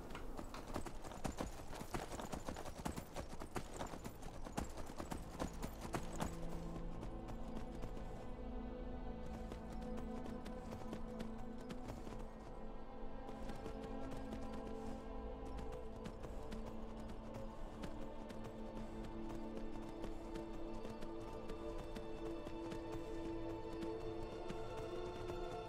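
Horse hooves galloping in the video game Skyrim, a steady rapid clip-clop running throughout over continuous game music and ambience, with no talking.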